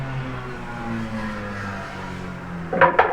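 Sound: car passing by loudly

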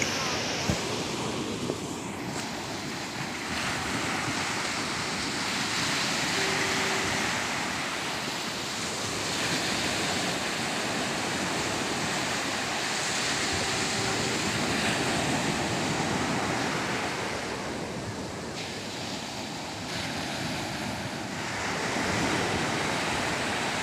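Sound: strong wind and waves at Nagapattinam beach at night

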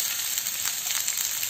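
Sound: sliced onions frying in a pan with garlic, ginger and green chilli

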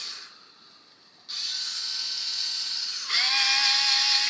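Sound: cordless screwdriver running, Bosch Go 2 vs KS Tools comparison

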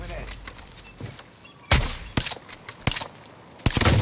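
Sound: gunfire from sniping in the video game Survival in Caldera

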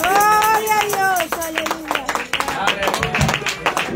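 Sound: church congregation applauding

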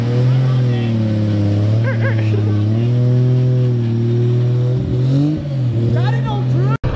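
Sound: car with welded differential engine revving

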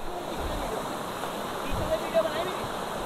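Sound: waterfall

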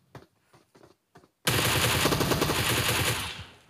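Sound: gunfire in the video game PUBG Mobile

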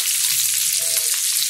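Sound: chopped onions added to pan and sautéed for chicken chilli

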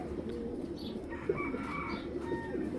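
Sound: pigeons cooing

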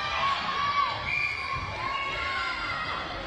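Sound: school netball teams cheering from the crowd

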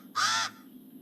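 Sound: pied crow cawing

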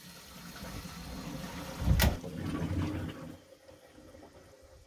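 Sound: beer wort draining from brewing kettle's bottom tap

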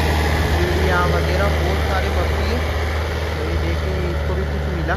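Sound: tractor engine in a farm field

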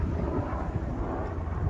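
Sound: helicopter flying overhead

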